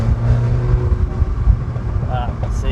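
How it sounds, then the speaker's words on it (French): Exhaust from a Mini Cooper S in sport mode burbles and rumbles through a downshift, loud and close with wind buffeting. People talk over it. "on descend les rapports, entendre chanter l'échappement."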